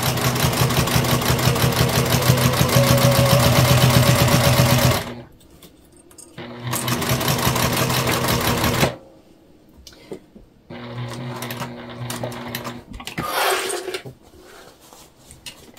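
A sewing machine sews slip pockets onto a beginner bag in loud, close bursts of rapid stitching, three runs broken by pauses with light handling clicks.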